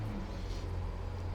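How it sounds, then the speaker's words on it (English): A big truck rumbles past outdoors, a low, steady engine drone that stays fairly faint and distant throughout, with no talking over it. "A big truck going past, hopefully it's not too loud"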